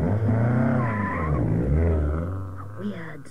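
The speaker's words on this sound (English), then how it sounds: "As the car pulled away," A car pulls away on a radio programme sound effect, its engine rising and falling in pitch with a brief tyre squeal near the end, heard fairly close.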